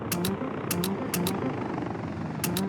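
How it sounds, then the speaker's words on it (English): Helicopters fly in to start construction in the city-building game Workers & Resources. A steady engine and rotor drone holds throughout, with paired bright clicks recurring every half second or so. "we'll get the helicopters to start work on everything else"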